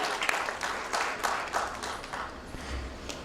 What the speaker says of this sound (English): Ladies and gentlemen, can we have a round of applause for our Group CEO, Mr. Abrali Dalal?